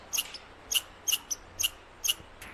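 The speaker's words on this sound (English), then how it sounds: "So I don't know if you could hear it, but that squirrel is fit to be tied." A squirrel that has been chased up a tree chirps angrily in a steady series of sharp high squeaks, about six bursts spaced evenly, fairly close and clear with no talking.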